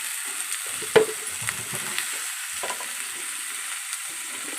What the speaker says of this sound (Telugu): పీతలు అనేవి అందులో వేసుకుని ఇప్పుడు మళ్ళీ ఒకసారి మనం అటు ఇటు కూడా కలుపుకోవాలి.